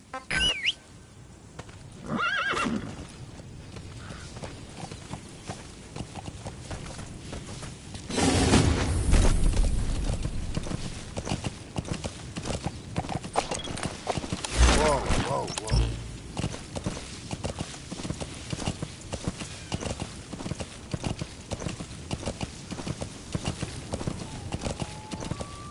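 Rhythmic clip-clop of horse hooves at a quick pace throughout, with occasional louder rumbling bursts and a distant whinny, set against game ambience.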